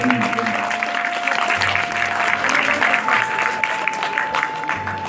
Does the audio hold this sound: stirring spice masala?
no